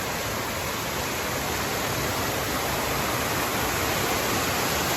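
Steady broadband rush of flowing water, constant and fairly near, like a small stream or cascade near Winding Stair Gap on the Appalachian Trail, with no voices.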